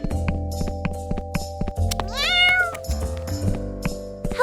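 A cartoon cat meows in a cute miniature ice cream cake scene, one rising and falling meow in the middle of music with clip-clop style percussive beats, fairly loud and close.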